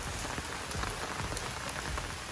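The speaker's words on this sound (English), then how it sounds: "so we finally have rain" Steady rain patters on surfaces around a house with gutters and downspouts, a dense, even hiss of drops with no voices.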